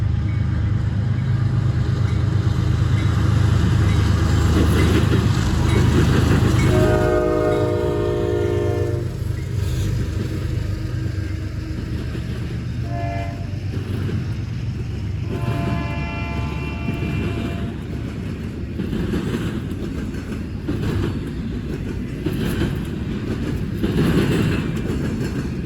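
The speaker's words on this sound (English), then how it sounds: "CSX I-137 came through Deshler after working the North Baltimore Intermodal Yard for a couple of hours" A CSX intermodal freight train, I-137, led by GE Evolution locomotives, rolls through Deshler, Ohio with a loud, steady rumble, sounding its horn in several blasts along the way.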